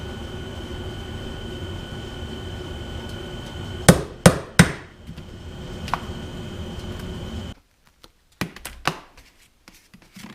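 Hammer strikes punching gaskets from gasket material for a Minneapolis-Moline 445 prototype tractor, a few sharp close bangs in clusters over a steady machine hum that then cuts out, leaving more isolated knocks.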